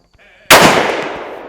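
A single loud rifle shot from a Japanese Type 99 rifle with a bayonet fixed, sharp and close, followed by a long decaying echo that rolls on for about a second.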